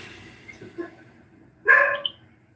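A single dog lets out a short, fairly loud bark close by, with a couple of softer yips or whimpers just before it, over a quiet room background.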